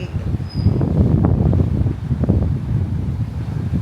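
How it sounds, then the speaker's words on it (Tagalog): Strong wind buffets the microphone in a steady, roaring rush at a seaside resort in Siquijor, Philippines, with low gusty rumble and a hint of water sloshing beneath it. "Balod hangin kaayo."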